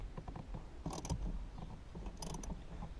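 A wrench loosens the 10mm handbrake cable adjuster nut on a Nissan 240SX, making two short bursts of faint ratcheting clicks at close range in a quiet space.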